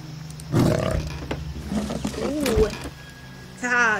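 Tiger roar in the video game Botanica 2: Earthbound, a short growling burst near the start, with a voice talking over and around it and game sounds throughout.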